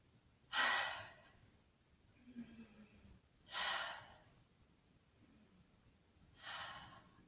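Slow, calm breaths in through the nose and out through the mouth during a guided meditation. Three soft airy exhales come at an even pace with quiet pauses between them.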